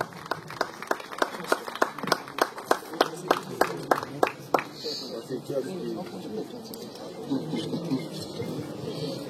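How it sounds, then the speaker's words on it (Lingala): Crowd clapping in a steady rhythm at a funeral wake ceremony, a run of sharp claps that fades into murmuring voices and distant sounds. "Acclamons très fort, s'il vous plaît."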